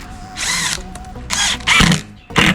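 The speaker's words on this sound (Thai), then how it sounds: "ผมใช้ไขควงกระแทกไร้สายตัวนี้นะครับเดี๋ยวผมจะลองขันให้ดูนะครับ" Four short bursts of a Makita 12V Max TD110DWYE cordless impact driver whirring and hammering as it tightens a nut, each lasting a fraction of a second, separated by brief pauses, loud and close.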